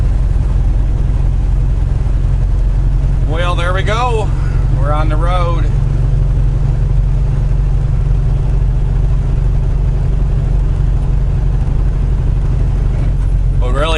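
Steady low engine drone and road rumble from a truck driving on the road, constant and close throughout, with someone briefly talking over it.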